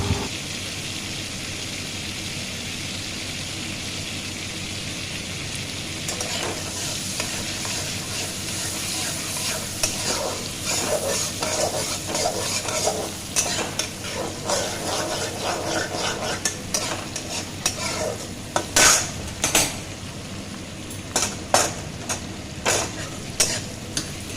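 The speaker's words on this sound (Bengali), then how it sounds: "তো ভালো করে লাল লাল আকারে ভেজে নেবো" Garlic frying in a pan until browned gives a constant close hiss of oil, joined midway by busy scraping and stirring clatter from a utensil that grows denser and more rhythmic toward the end, with no voices.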